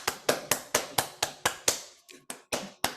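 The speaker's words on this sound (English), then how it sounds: "just let's give them a big clap" A small group gives a short burst of hand clapping for presenters at a research presentation, about a dozen distinct, fairly evenly spaced claps heard alone and close by.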